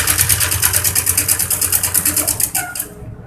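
A sewing machine stitching a kurti shoulder seam, a fast, even mechanical run of needle strokes at close range that stops abruptly near the end, no talk.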